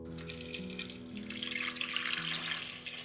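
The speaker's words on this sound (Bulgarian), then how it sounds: "Аз ще ги залея с гореща вода, за да можете да се сварят по-бързо" Hot water pouring from a tap or kettle onto potatoes in a cooking pot, a steady close splashing rush with faint tonal hum underneath, no talking.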